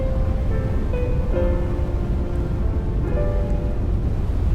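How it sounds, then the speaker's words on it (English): Rain falls in the video game Love and Deepspace as a steady broadband wash, with soft tonal music notes drifting over it and no voices. "I just don't know when the rain will go away."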